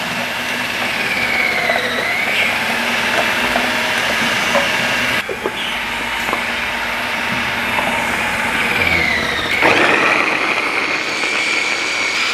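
A food processor grinds fresh ginger to a fine paste for a large batch of chicken topping, giving a loud, steady motor whine and rough churning that runs unbroken, with no voices.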